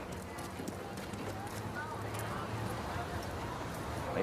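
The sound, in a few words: horse hooves clip-clopping at a riding competition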